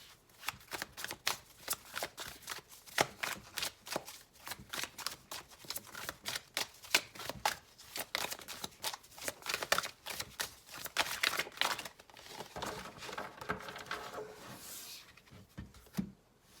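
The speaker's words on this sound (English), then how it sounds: "we are going to keep shuffling until you guys get 8 cards" Rapid riffling of a tarot card deck, repeated in quick bursts of crisp flicking and snapping, close by and steady for the whole stretch with no talking.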